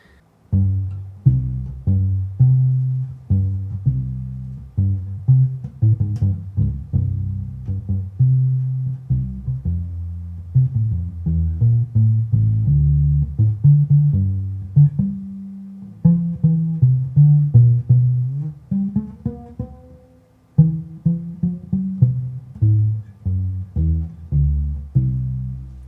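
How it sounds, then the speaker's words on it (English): A deep electric upright baby bass plays a steady salsa walking line of low, round plucked notes, continuous and prominent throughout. "But that's the sound of baby bass."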